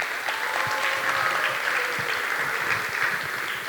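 An audience applauds the judges at the Festival Drama Realis Remaja 2026. The clapping is steady and continuous, with no speech over it.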